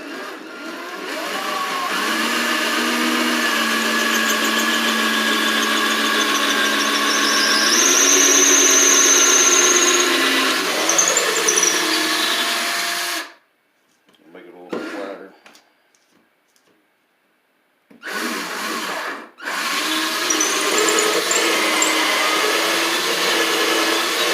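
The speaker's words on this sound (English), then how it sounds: "So I'm just using the biggest drill bit I got right now." A loud power drill with a large bit whines steadily for several seconds boring a hole in a countertop, its pitch shifting slightly, then cuts out, followed by a couple of short bursts.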